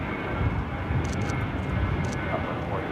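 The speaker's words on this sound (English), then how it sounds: "That was Southwest 437 taking off to Tucson on the 737-800 in the Illinois 1 livery." A Southwest Boeing 737-800 taking off at LAX makes a broad, steady jet roar, and a voice talks briefly over it.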